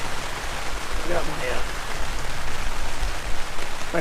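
Steady rain pattering on a backpacking shelter during a mountain thunderstorm in the Upper Hilton Lakes Basin, a continuous close hiss with a few faint tones and brief sounds mixed in.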